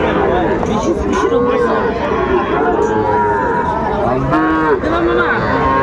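Sahiwal calves lowing at a busy cattle market in Rajshahi, a few drawn-out moos rising over constant crowd chatter and nearby talk.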